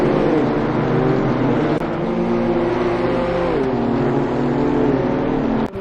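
A BMW M2 CS engine in a racing game runs at full throttle, loud and close, climbing in pitch through gears with brief shift dips, alone without talk.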